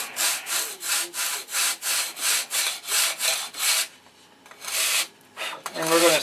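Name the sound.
sanding wood with a sanding block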